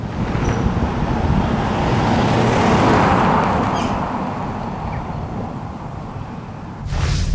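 A 2022 Land Rover Discovery Sport P290 facelift petrol SUV drives along a road, heard from inside as a steady low road and engine rumble with wind noise that swells and eases; no talking.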